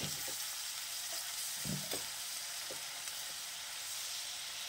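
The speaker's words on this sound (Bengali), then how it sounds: "সামান্য জল দেই, তাহলে মশলাটা একটু ভালো কষাতে পারবো" Spice paste with turmeric frying in a pan with a little water added, for an eggplant and flattened rice dish, with a steady, fairly quiet hiss and a few soft stirring knocks.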